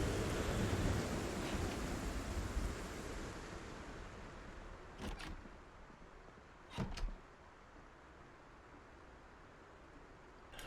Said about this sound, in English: Sounds like we're dealing with a proper storm